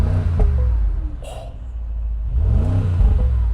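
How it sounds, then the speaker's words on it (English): A 2026 Mercedes G63 engine revs twice, each a deep rising then falling roar from close by, separated by a quieter idle rumble. "Let me just rev it real quick."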